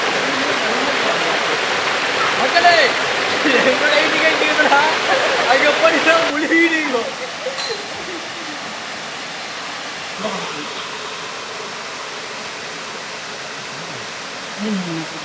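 Nagalapuram's Aare Falls near Chennai pours with a steady, broad rushing roar of falling water, heard close and continuous, while people talk and call out over it in the first half.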